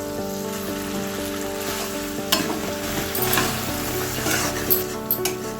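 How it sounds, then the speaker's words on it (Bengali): Elephant apple pickle stirred with melting jaggery in a hot pan, a continuous close sizzle with frying hiss and intermittent scraping stir strokes, no voices. "এখন আমি চালটার সাথে ভালো করে গুড়টাকে মিশিয়ে নেব"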